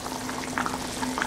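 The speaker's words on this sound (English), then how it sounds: "Boiling water." Lemon shrimp curry boils in a pot, a steady close bubbling with small pops and gurgles over a faint hum, no one speaking.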